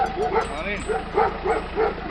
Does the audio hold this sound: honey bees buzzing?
no